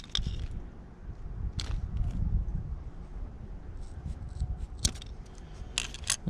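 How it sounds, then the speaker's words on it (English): Scissors trim the rounded edges of a tint film for a fog light lens on an MK6 Fiesta ST150, a few sharp, close snips spaced among quieter rustling and handling noise outdoors. "We're going to cut the edges that are rounded off."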